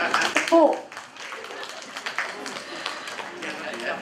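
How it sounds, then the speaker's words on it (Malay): An audience at a Malaysian farewell and appreciation ceremony for lecturers claps in scattered, uneven applause after someone speaks into a microphone. "Tepuk tangan sikit."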